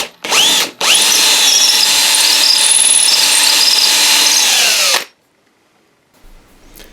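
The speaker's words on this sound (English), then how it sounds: "I then carefully drill the hole." An electric drill with a 5mm bit bores a hole for a model railway signal kit: a short burst, a brief pause, then a steady high whine for about four seconds that winds down and stops, close and loud.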